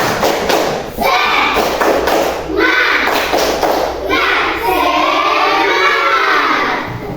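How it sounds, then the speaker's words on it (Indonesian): A primary school class in Indonesia performs a rhythmic 'tepuk semangat' clapping chant, loud bursts of clapping and children's shouting from a crowd of pupils in a classroom, with thumps and cheering between the phrases. "Coba sekarang kasih tepuk semangat"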